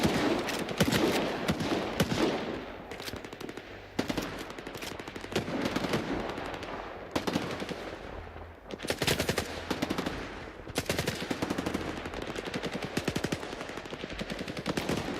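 Rapid bursts of automatic gunfire and repeated shots in a video game firefight, loud and nearly continuous with brief pauses, dense overlapping volleys throughout.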